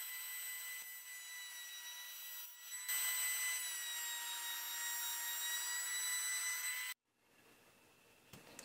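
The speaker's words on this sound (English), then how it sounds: "I'm just going to choose to bandsaw this one out." A bandsaw cuts out a wooden deck plate for an old canoe rebuild, a steady high whine running for several seconds and then stopping abruptly, with quiet room noise after.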